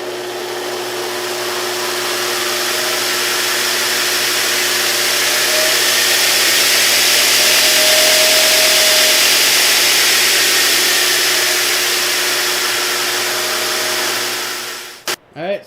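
A Reeder Products 2x72 belt grinder runs steadily, a loud, even motor and belt whine with a faint tonal hum that swells slightly, then cuts out abruptly near the end with a couple of clunks.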